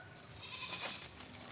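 A goat bleats nearby in a durian orchard, one strained, wavering call lasting over a second, fairly close with a little background hiss and no speech.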